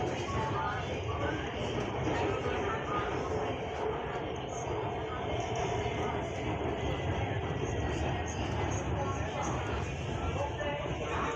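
Steady rumble and rush of a Lahore metro train in motion during light rain, with broadband noise holding evenly throughout and people talking over it.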